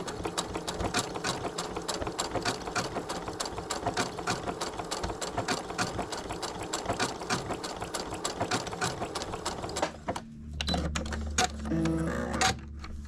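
A sewing machine stitches rapidly around a felt pattern for a scrap felt quilt, a loud, steady mechanical chatter of fast needle strokes that stops near the end, followed by a brief low hum and clicks.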